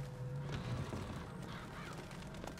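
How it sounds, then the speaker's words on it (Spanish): Crows caw faintly in the video game Bioshock Infinite, a few hoarse calls set well back under a dense, steady game ambience and low musical drone. "ya me he dado cuenta que hay muchos cuervos"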